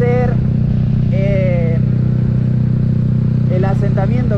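A 150cc motorcycle engine hums steadily and loud at low throttle during break-in, its even drone running under someone talking throughout.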